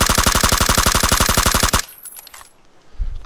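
Rapid, loud automatic gunfire in PlayerUnknown's Battlegrounds, a steady burst of close shots for nearly two seconds that cuts off abruptly into quiet game ambience.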